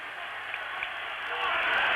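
Arena crowd noise at a 1985 ice hockey world championship game, Czechoslovakia against the USA, a distant, steady wash of clapping and cheering that swells slightly toward the end.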